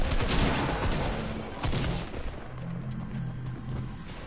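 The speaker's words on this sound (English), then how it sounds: "he managed to shoot me through my build" Video game gunfire rattling in rapid, dense bursts as shots tear through a player's built structure, loud and close at first and then settling into a steadier crackle.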